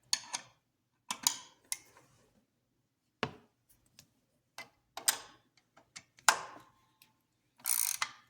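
A ratchet works loose a 14mm bolt during supercharger removal on a 2002 Corvette Z06, giving close, sharp clicking bursts in irregular groups separated by short pauses, with no talking.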